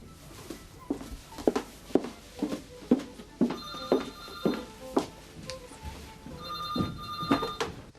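An old-fashioned telephone bell rings in repeated bursts, fairly close, with soft thudding footsteps moving about between rings.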